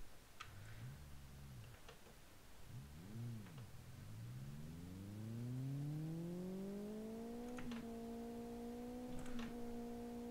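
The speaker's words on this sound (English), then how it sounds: "You can hear that clutch slip as I'm changing gears" Video game car engine whining and rising in pitch as it revs, with brief dips and flare-ups as the clutch slips during gear changes, and light ticking clicks.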